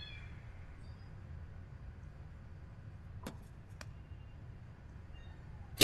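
A kitten gives a faint, thin meow near the start, followed by quiet room noise with a couple of brief clicks and rattles.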